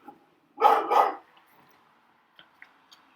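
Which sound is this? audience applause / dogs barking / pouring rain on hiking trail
dogs barking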